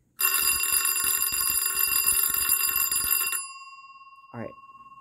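An Edwards 3-inch 156G-3AM monitor bell rings loud and close in a continuous rapid metallic clatter for about three seconds, then stops sharply and leaves a fading hum and a brief click.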